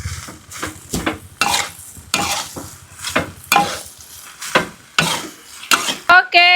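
Curly mustard greens being stir-fried into fried rice vermicelli in a pan, with rhythmic scraping strokes of a spatula about every half second over a soft sizzle, ending in a couple of sharp metallic clinks.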